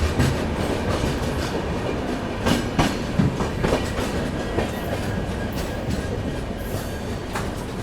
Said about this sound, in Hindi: राजधानी एक्सप्रेस भुसावल से।